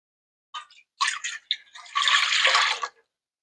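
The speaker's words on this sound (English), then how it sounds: "Into this bowl, we're going to add our milk," Milk poured into a mixing bowl for chocolate cake batter: a few short splashy spurts, then a steady liquid pour for about a second that stops abruptly, close and fairly quiet.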